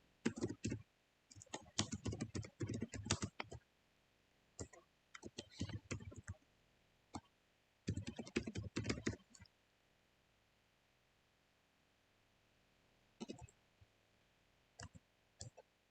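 Computer keyboard typing as values are entered into an SQL table, with close, quiet bursts of rapid key clicks separated by pauses and a few isolated taps near the end.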